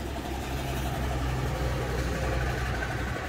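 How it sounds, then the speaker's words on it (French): A tractor engine approaching along a vegetable garden at the end of the season, a steady low rumble with an idling quality that stays loud and continuous throughout. "il y a un tracteur qui vient"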